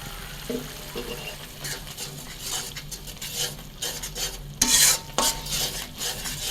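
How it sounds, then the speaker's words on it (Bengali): Turmeric and chilli powder masala stir-fried in a pan for kochu shak ghonto with pangas fish head, a spatula rasping and scraping against the metal in quick irregular strokes over a light sizzle, close and fairly loud, no voices. "মশলাটা সুন্দর মতন করে কষাই নিন।"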